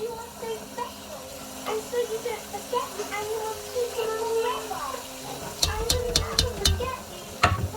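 Masala and onions for lasagna are stirred in a pan with a soft sizzle and scraping, mostly under voices talking, and a run of sharp utensil taps near the end.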